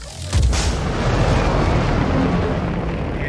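A missile from a rotary launcher on an Aegis Eclipse strikes its target in Star Citizen, a sudden loud boom that swells into a sustained, rumbling roar lasting several seconds.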